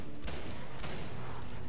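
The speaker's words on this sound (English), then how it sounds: "Fire the shotgun three times" In the Singularity video game, a shotgun fires in bursts amid dense, noisy gunfire and explosions that fill the whole clip, loud and continuous with no voices.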